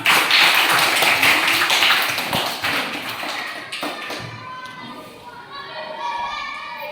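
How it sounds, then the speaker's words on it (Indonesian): A primary school class claps hands together on cue in a classroom, a loud burst of quick, tapping claps from many children that dies down after a few seconds, with children's voices and a teacher talking around it. "Betul. Tepuk tangan."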